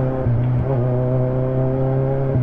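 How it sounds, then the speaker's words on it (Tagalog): A motorcycle engine drones along a road in the northern Philippines, a steady, near tone that shifts in pitch slightly as it passes, heard alone. "Oo, motor lang yan."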